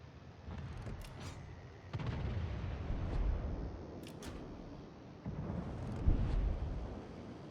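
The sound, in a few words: warship guns firing, from a naval video game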